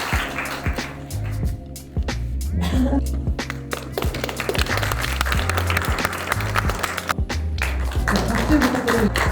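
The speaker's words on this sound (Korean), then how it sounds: "네, 큰 박수 부탁드립니다." Audience applause at a youth rice cooking contest award ceremony, a dense steady clapping that fills the whole stretch, with an announcer's voice over it.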